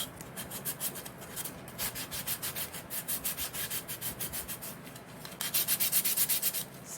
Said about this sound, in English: I want this to stick on here really good, so I'm going to scuff it up